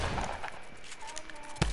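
Rapid gunfire in the Fortnite video game, dense crackling shots over game noise with a sharper burst near the end, under a player's voice.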